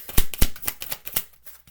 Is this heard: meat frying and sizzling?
no